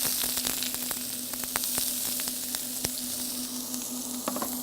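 Chopped onions sizzling in extra virgin olive oil in a pan for risotto, a steady bright crackle dotted with sharp spitting pops, close and continuous with no voices.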